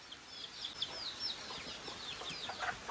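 Chickens in a backyard farm being fed cooked rice, with a busy overlapping stream of soft clucks and high chirping calls, moderately close and steady throughout.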